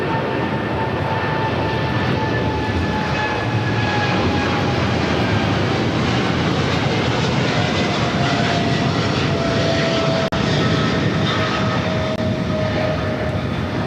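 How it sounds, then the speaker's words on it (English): Steady, loud jet roar from a China Airlines Boeing 777 freighter taking off from LAX for Tokyo Narita, with whining engine tones slowly gliding through a dense, constant rumble. "This is China Airlines 5153 taking off to Tokyo Narita on a 777 freighter"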